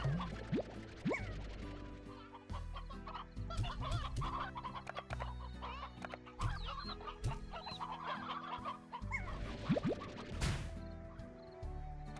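Chickens in the video game Slime Rancher cluck and squawk steadily and close up for the whole stretch, with sharp game clicks and thwacks scattered among the calls and no talk.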